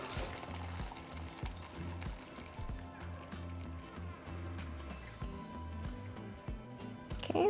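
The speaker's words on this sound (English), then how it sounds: "carefully we're going to strain the broth" Pressure-cooked bean broth pours and splashes through a strainer at close range, a steady running and gurgling liquid sound with a sharper splash at the end and no talking.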